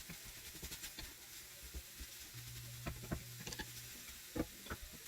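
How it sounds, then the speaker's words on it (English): Broccoli slaw stirred in a hot pan, with soft intermittent scraping and light sizzling, fairly quiet and steady with no talking. "And just mix it up a little bit here."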